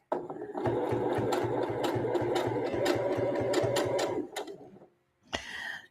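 A sewing machine runs steadily for about four seconds with a rapid rhythmic stitching chatter, close and loud, then stops briefly before restarting for a moment; the machine is skipping stitches.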